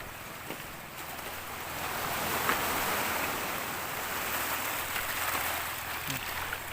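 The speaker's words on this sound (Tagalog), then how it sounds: "Takot si Pitoy sa alon." Ocean waves washing onto a seashore, a broad, steady rush of surf with wind noise buffeting the microphone and a swell rising toward the middle, heard close and alone with no talk.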